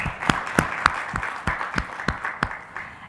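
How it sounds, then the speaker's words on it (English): An audience in a summit hall applauds to welcome a government minister, a sparse scattering of distinct claps from a modest crowd over a few seconds, fairly close. "can we just welcome him with a warm applause?"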